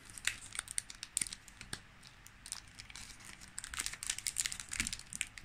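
A Pokémon Shining Fates booster pack wrapper crinkles and rustles up close in quick, uneven bursts of crackling plastic, with short sharp crackles scattered throughout.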